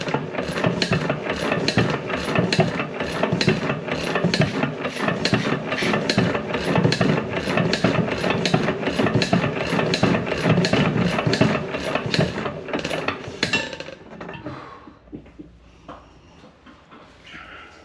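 A John Deere 1.5 hp gas engine runs with a steady, rapid chugging beat and a loud close exhaust bark for about fourteen seconds, then shuts down and coasts to near silence.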